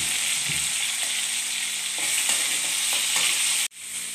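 Chili peppers and tomato sauté in a hot pan, a steady loud sizzle with a few soft stirring scrapes and a sharp knock near the end before the frying resumes.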